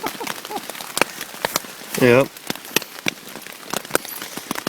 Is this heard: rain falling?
yes